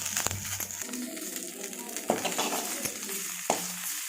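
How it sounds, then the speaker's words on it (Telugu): Curry leaves fry in oil in a kadai, giving a steady sizzle with occasional stirring clinks and scrapes close by, and no talk is heard. "ఇప్పుడు అదే కడాయిలో కరివేపాకు కూడా వేసుకొని ఫ్రై చేసుకోవాలండి."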